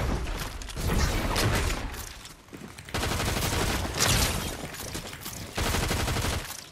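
Continuous gunfire in a first-person shooter game using a pump shotgun, dense bursts of shots and crackling blasts in long loud stretches with brief gaps, close and without voices.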